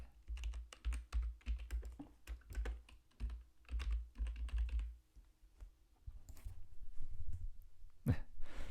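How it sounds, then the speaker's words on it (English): Fingers tap rapidly on a computer keyboard, a dense run of crisp keystrokes in quick irregular bursts, then a brief pause and softer handling sounds at the end. "my typing speed is too slow"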